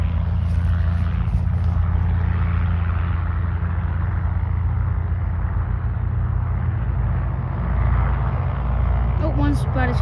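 A plane idling and taxiing at Concord Regional Airport in North Carolina produces a steady, loud low engine drone throughout, with a person talking over it.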